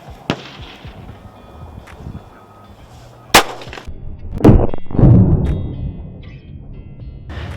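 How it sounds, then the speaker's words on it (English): Several .40 caliber handgun shots fired into layered wall panels during a penetration test, sharp loud reports with echoing thuds and rumble, spaced apart over a low background. "Okay, final shot with the 40 cal."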